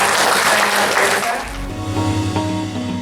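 Audience applause at a school workshop for a Sidoarjo state junior high school fills the first half as a dense, steady clapping wash, then fades out as music takes over.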